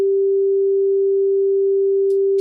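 A steady, pure sine-wave test beep played through Unity holds one clean tone, loud and constant, alone in near silence before a faint click at the end.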